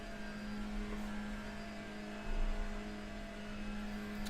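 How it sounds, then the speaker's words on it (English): A GT3 race car sweeps past on a circuit, its engine rising from a distant steady drone into a louder, nearer swell about halfway through before easing off again, with no talking. "Here comes the first GT3."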